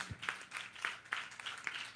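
A church congregation claps together in a steady rhythm, about seven evenly spaced bursts of hand claps, moderately distant and fairly quiet.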